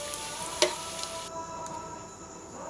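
Crisp fried potato pakoras being lifted out of hot oil, a low steady frying hiss with a few sharp clinks and taps from a utensil, fairly close and without any talking.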